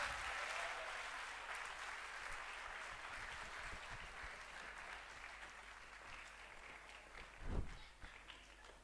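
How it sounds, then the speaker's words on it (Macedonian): An audience applauds the girls competing in the 2018 Zhetvarska Ubavica harvest beauty pageant, a soft, continuous patter of clapping heard from a distance, with a brief dull thump near the end. "Дали може да чуеме еден аплауз за сите овие девојки?"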